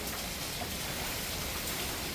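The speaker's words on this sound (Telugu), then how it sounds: "ఏమో వర్షం అండి బాబు అంటే ఫుల్ గాలిదుమ్మ వస్తుంది" Heavy rain falls with strong wind in a monsoon storm, a dense, even rush of drops hissing steadily at moderate distance, with no voices.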